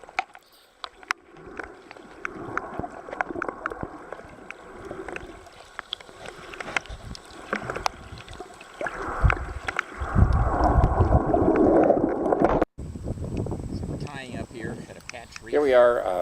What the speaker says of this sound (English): Here we are testing out the kayaks, kayaking to a patch reef about a half-mile offshore.